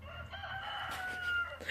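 A rooster crows once, fairly near, a drawn-out call over a low background hum.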